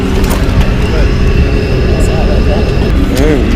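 Engine of a very small passenger plane, a steady loud droning hum with a propeller buzz, heard close and continuous while a voice talks over it.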